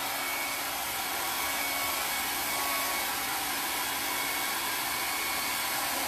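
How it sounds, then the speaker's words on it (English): A hair dryer drying paint blows in a steady, loud, high whoosh that runs without pause from start to finish. "I'm going to shoot it with a blow dryer real quick."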